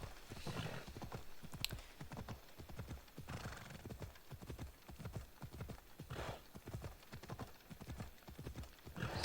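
Hooves of a horse clip-clop in a steady, quickening rhythm on a road just outside town, loud and close, with a brief higher rattle early on and no clear speech.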